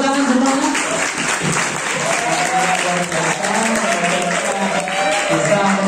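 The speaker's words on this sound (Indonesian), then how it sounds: "Beri tepuk tangan semuanya." Audience applause fills a hall after a guest lecture on cloud computing and IoT: dense, sustained clapping from a large crowd, steady and loud for the whole stretch.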